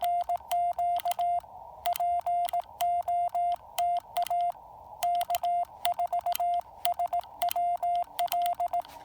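The TR relay inside a Yaesu FT-817ND portable radio clicks rapidly at each keyed Morse tone, a dense train of sharp ticks riding along steady beeping bursts with a couple of short gaps, fairly quiet and without voices.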